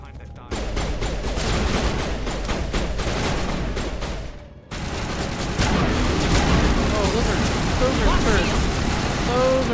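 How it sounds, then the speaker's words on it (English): Gun turrets fire in the Mass Effect video game as a loud, dense barrage of rapid shots and booms, broken by a brief pause midway, with a voice talking over the gunfire. "those are turrets"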